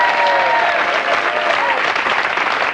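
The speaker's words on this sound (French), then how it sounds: "avant de chanter, des applaudissements, s'il vous plaît, pour Élie Semoun," A French television studio audience in 1995 gives steady, full applause, close and continuous throughout, with faint tonal sounds over the clapping.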